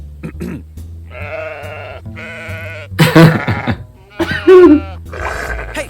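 Several loud, close cartoon sheep bleats sound in quick succession, wavering and nasal, mixed with brief grunting noises in an animated history piece.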